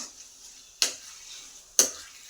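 Mango peel pickle frying in a pan on a low flame gives a faint, steady sizzle broken by two sharp scraping stirs about a second apart.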